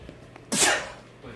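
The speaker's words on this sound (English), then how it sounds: "Sneeze attack." A single sharp human sneeze indoors during a tabletop wargame session, close and loud, bursting out suddenly and fading quickly.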